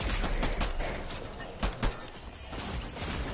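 Gunfire in a shooter video game, a continuous busy mix of rapid shots and bursts with a couple of louder impacts near the middle, dense and cluttered throughout.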